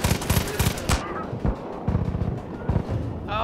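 Rapid automatic gunfire in the video game Far Cry 5, a dense burst of loud shots at first, then scattered single shots over a steady rumbling backdrop.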